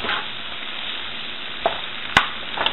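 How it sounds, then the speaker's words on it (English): Mushrooms and garlic cook in a pan with a steady low sizzle, while a spoon tosses them, giving a few sharp scrapes and clacks against the pan. "I'm gonna get a spoon and just toss it and let these mushrooms cook down."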